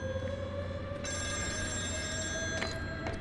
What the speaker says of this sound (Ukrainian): Знов телефон дзвонить.